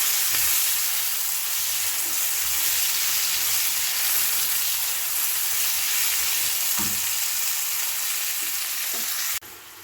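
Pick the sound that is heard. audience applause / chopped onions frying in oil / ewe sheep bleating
chopped onions frying in oil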